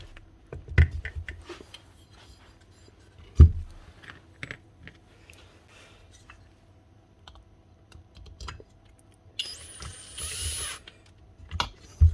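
Screws being tightened on the head of an old Makita 9069 9-inch angle grinder, sparse close metallic clicks and ratcheting taps with quiet gaps between, plus a brief higher whirring burst near the end.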